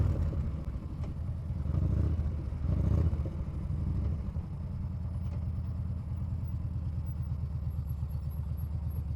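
A big motorbike rides through London traffic, its engine rumbling steadily and close with low clattering pulses and a brief surge early on, no talking over it.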